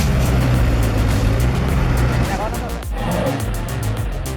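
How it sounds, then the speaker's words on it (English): A loud, steady engine roar from a truck loaded with coconuts on a rough mountain road dominates throughout, close and continuous, with a brief dip near the end before it resumes. "The roar of the truck engine tore through the silence of the mountains and forests."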